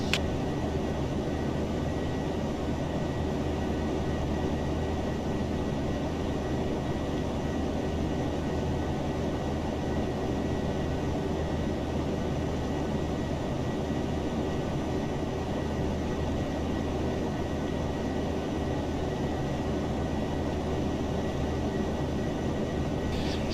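Boeing 737-800 jet engines in FX simulation climbing toward 37,000 feet on a Ryanair-style Italian route, a steady broadband roar with a constant low hum, unchanging for the full length with no talk.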